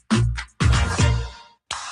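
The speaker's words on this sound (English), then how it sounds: "This is the sound of Jack, buzz cutting his way to a small fortune." Electric hair clippers giving a DIY buzz cut make three short, close buzzing bursts separated by brief silences, with no talking.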